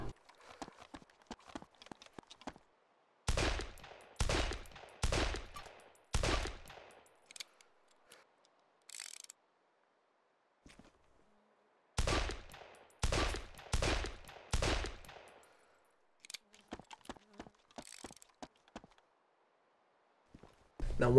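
Revolver shots fire in the video game DayZ, with bursts of sharp, loud reports spaced by pauses, then a rapid run of closely spaced shots near the end.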